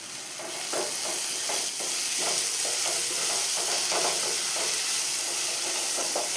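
Onions fry in a pan for Tamil-style garlic gravy, giving a steady hiss of sizzling with repeated scrapes of a spoon stirring, close and fairly quiet, with no talking.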